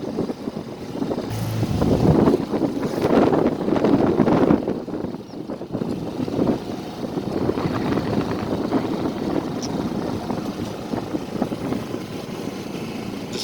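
Strong wind roars across a sailboat motor-sailing on open water, a loud continuous rushing buffet with gusts, mixed with a low engine drone, and no voices.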